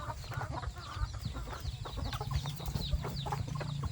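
Several chickens cluck and chatter close by in a busy, continuous flock sound, with no talking.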